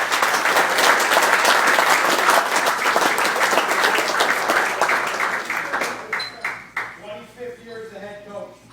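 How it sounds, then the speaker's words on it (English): Loud, dense audience applause honoring a longtime Stepinac coach fills the room, then thins into scattered claps and dies away, with a voice and a faint ringing tone coming through at the end. "Coach, Mr. Dale, you might want to hold your applause"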